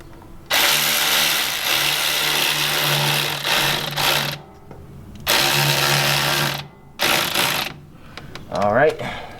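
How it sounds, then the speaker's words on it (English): A powered ratchet tightens a bolt on a BMW F80 M3 intake during installation, sounding in three loud, close whirring bursts of several seconds each, separated by brief pauses, with a faint high rattle at the end. "So, go ahead and tighten this down."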